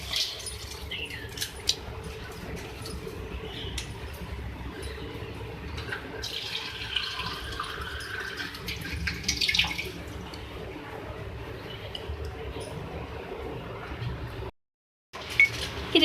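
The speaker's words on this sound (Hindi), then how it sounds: "अब इसके अंदर मैं 3 गिलास पानी ऐड करूँगी इसको कुक करने के लिए।" Glasses of water are poured into a cooking pot holding beef and bottle gourd, giving a continuous splashing hiss with a few faint clinks and a brief dropout near the end.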